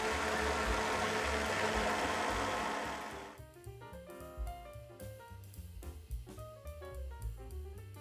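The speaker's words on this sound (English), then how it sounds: "At this point, the sauce goes into a blender to smoothen the sauce." A blender whirs loudly and steadily for a few seconds, blending roasted red bell pepper sauce, then shuts off, leaving quieter clinks and soft kitchen sounds.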